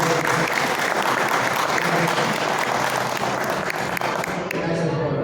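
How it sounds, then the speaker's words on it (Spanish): An audience at a book presentation applauds loudly and steadily, dense clapping filling the room without a break before it begins to trail off at the very end. "Fuerte aplauso, por favor."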